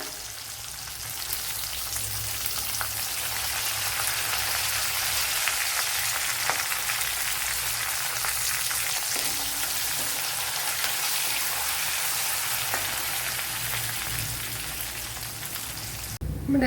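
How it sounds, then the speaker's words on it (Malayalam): Garlic, green chillies and curry leaves frying in oil in a pan, a steady loud hiss and crackle sustained throughout with small pops, no talk over it. "നമ്മുടെ വെളുത്തുള്ളിയൊക്കെ വഴണ്ട് വന്നിട്ടുണ്ട്"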